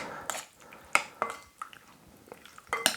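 King prawns mixed by hand in a bowl of char siu sauce, a few soft wet squelches and light clinks of a utensil against the bowl at close range.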